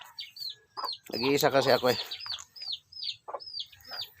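Chickens, gamecocks kept by a cockfighting breeder, cluck in short repeated bursts around a yard, while someone speaks briefly over them in the middle.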